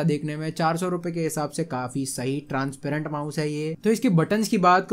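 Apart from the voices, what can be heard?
No everyday noises stand out.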